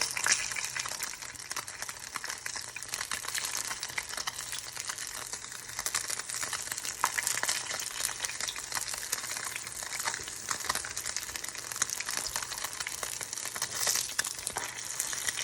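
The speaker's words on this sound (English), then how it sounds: "the buttermilk in the batter could help the oil sputter" Buttermilk-battered tofu deep frying in hot oil, a dense, steady crackle and sputter that carries on evenly at close range with no talking.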